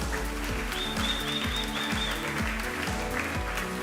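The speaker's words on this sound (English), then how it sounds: "Round of applause for Dario!" An audience claps and applauds steadily over a rhythmic thumping music beat, with a few faint high chirps.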